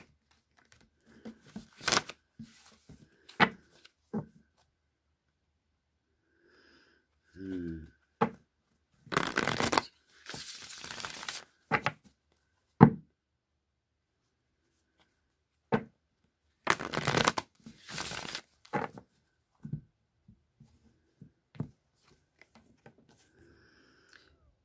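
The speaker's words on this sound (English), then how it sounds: "So I'm going to give the deck a few shuffles and draw a card." A deck of mystery-game cards being shuffled in several short bursts of riffling and snapping, close and crisp, separated by quiet gaps with occasional soft handling noises.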